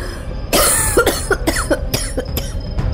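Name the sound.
woman coughing in horror audio story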